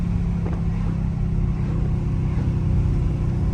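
A loud Dodge Scat Pack driven aggressively, with a heavy continuous engine rumble and exhaust drone filling the cabin at a steady high level.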